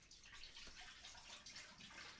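Record-cleaning solution is poured into an ultrasonic cleaner tank as a faint, steady liquid trickle and splash, continuous and quiet, with no voices.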